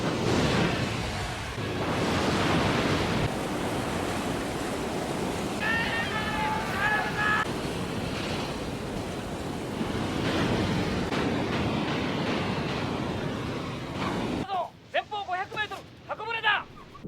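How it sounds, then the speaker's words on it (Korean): In a scene from the anime film Patlabor, heavy waves crash at a pier during a typhoon. The roar is loud and continuous, with wind through most of it, and it cuts out near the end as a voice narrates over it. "심한 파도를 이겨내고 방주 안까지 다행히 안전하게 도착합니다"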